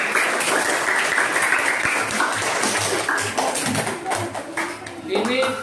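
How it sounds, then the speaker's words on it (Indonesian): A classroom group is applauded with sustained clapping from many students, steady and fairly loud across the whole stretch, with voices chattering underneath. "Oke, tepuk tangan untuk kelompok."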